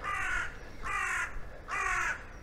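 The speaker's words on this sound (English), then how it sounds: "That's a crow, a very noisy crow." A noisy crow in the Somerset village of Castle Cary gives three loud, harsh caws, evenly spaced, close and clear over faint outdoor ambience.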